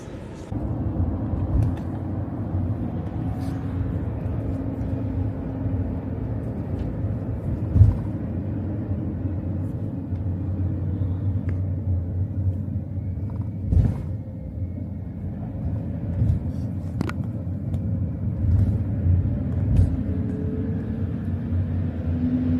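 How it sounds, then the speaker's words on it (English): A minibus engine rumbles steadily from inside the cabin during a ride, a low continuous drone with occasional small bumps and knocks and no talking. "so far, it is only me on this bus, so you can see just your standard minibus"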